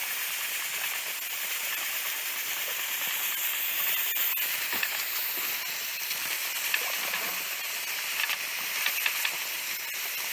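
A pressure canner processing eight jars of salmon at a survival camp gives off a steady, loud steam hiss, with faint rattles from the rocking weight and no talk.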